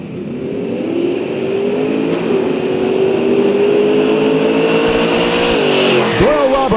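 A Chevrolet Performance LSX drag racing car at Atlanta Dragway roars loud and close, its engine note climbing steadily for several seconds before it breaks off and stutters near the end.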